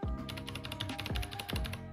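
Fast typing on a computer keyboard while editing text in Vim, a steady close clatter of key taps with a few heavier thumps, no voices.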